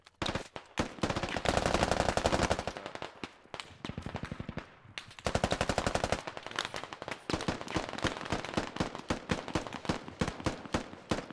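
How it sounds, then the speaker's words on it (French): Gunfire in the video game Squad: dense bursts of rapid automatic fire and single shots, loud and close, crackling in rapid rhythm for the whole stretch with short gaps between bursts. "je crois que là-haut ils se font encore tirer dessus là"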